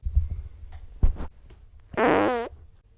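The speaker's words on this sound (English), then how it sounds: "That's a fart." A single close, loud fart lasting about half a second with a buzzing, sputtering tone, following some quieter rustling and a thump, with no talking.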